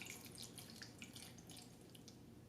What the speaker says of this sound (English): Pour in a cup of water.